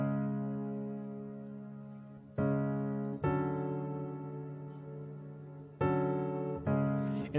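Simple sustained ambient chords from a Keyscape wash preset in an ambient trap beat, played dry before reverb, each soft swelling chord changing about every second or so and decaying slowly, with no voices.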